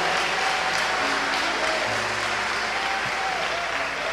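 A church congregation claps steadily for the Lord's name, dense and sustained applause filling the room for several seconds at an even level.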